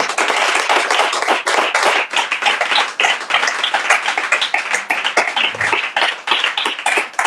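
A church congregation claps to acclaim the Lord during a worship service, a loud, dense and continuous wash of many hands filling the room without pause.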